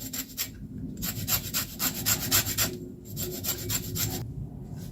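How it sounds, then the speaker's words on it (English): A lemon is rubbed against a zester in a kitchen, giving close, rasping scrapes in quick strokes grouped into three bursts with short pauses between. "Let's have one lemon zest."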